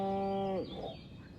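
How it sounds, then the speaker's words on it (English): A cow moos in the video game Destroy All Humans!, one loud, close, drawn-out low call that slides down and breaks off midway into a softer, noisy tail. "Again with the moo?"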